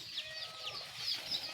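A mother hen on a country chicken farm gives soft, high clucks and chirps close by, with faint chick peeping and a steady background hum throughout.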